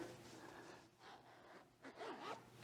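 A side vent zipper on hiking pants is pulled open in a few quick, raspy strokes, close and quiet, with brief pauses between the pulls.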